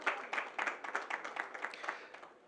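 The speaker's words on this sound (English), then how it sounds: "A round of applause for our host." An audience at an architects' forum in Lagos claps for the host, a quick burst of dense applause at moderate distance that tapers off within a couple of seconds.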